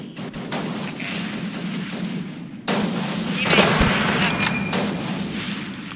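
Rapid bursts of gunfire from a Roblox shooter game, loud and continuous, with dense firing that swells partway through.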